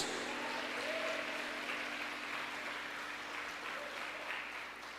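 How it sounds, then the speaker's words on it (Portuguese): A church congregation applauds, a dense and steady wash of clapping from many hands that carries on for the whole stretch. "Se você crê, aplaude e glorifica Jesus"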